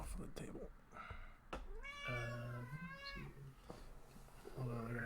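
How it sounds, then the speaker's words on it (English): A hungry cat meows repeatedly nearby, several drawn-out rising calls spaced over a few seconds, while a person talks in between. "Hold on, I gotta feed this cat."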